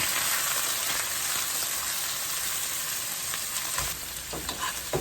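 A fish fries in extra olive oil over medium-high heat just after being flipped, giving a loud, continuous close-up sizzle with crackles like rain and a few spoon or spatula knocks near the end.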